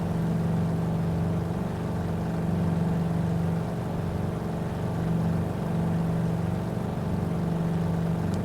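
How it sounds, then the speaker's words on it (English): Waco YMF5 biplane radial engine in Microsoft Flight Simulator 2020, droning steadily and loudly just after takeoff, a continuous low hum with faint swells and no talk over it. "The sound of that engine, my goodness. It's so nice."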